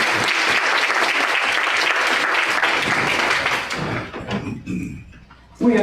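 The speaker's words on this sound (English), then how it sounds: "let's give them a round of applause for this" Audience applause at a community conversation event about Alzheimer's in Charlotte, thanking local churches: sustained loud clapping from a crowd that gradually thins out and fades to a few scattered claps.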